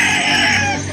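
A single chicken at a chicken market in Calauan, Laguna gives one loud, close, drawn-out squawking call that fades at the end, with no talking.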